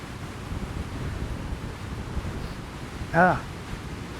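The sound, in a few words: sea water and waves coming in fast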